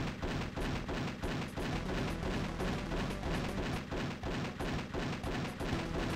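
Rapid, continuous gunfire from the first-person shooter Action Doom, a dense stream of repeated shots lasting the whole stretch at a steady, loud level with no pauses.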